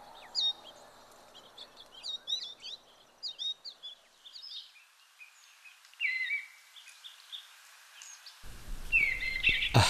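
Small birds in an Appalachian forest, a scattering of quick high chirps and tweets at moderate distance, rising in bursts over quiet background with no voices.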